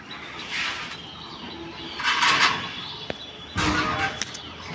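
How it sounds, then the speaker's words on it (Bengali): Pigeons in a rooftop loft, with faint soft cooing and rustling punctuated by a few bursts of wing flapping and fluttering, close by, with no one talking. "এটা খুব ভালো রেজাল্ট করা একটা কবুতর"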